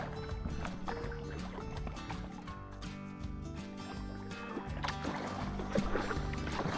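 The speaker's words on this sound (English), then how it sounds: "I'll tell you what though, Alan, having this slightly longer paddle and not having to feather it" Paddle strokes on the River Thames between Castle Eaton and Lechlade using a longer, unfeathered paddle, with rhythmic splashes and water gurgles recurring over steady outdoor ambience.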